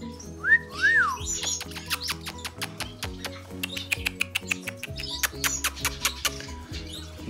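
Small finches chirp and tweet in an aviary, many quick overlapping calls and whistled notes from several birds, close by and lively, with no talk.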